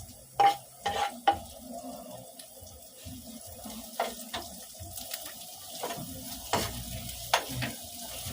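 Onion goes into a hot pan while humba cooks, with a moderate sizzle, a few sharp utensil knocks near the start and scattered clinks of stirring throughout.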